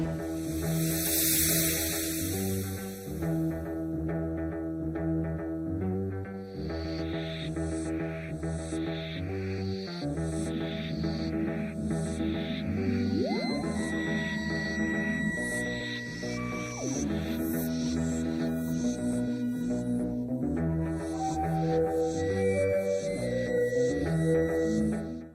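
Original 1963 theme music, an electronic piece with a driving repeated bass pulse, swooping oscillator melody and hissing washes, playing steadily and loud throughout with no voices.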